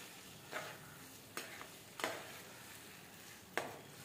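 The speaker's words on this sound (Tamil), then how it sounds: "தக்காளி பழம் 2 பழம் போட்டிருக்கேன். நல்லா அப்படியே வதங்கி வரட்டும்." Onions, tomatoes and slit green chillies frying in a pan for a rasam meal, a steady soft sizzle under occasional louder stirring scrapes spaced a second or so apart.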